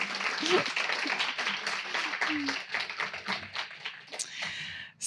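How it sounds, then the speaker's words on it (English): Audience applause for literary translation mentors at a reading event, a dense wash of clapping that carries throughout, with a few voices and brief tones cutting through the crowd noise. "maybe we could do a round of applause for all of the mentors"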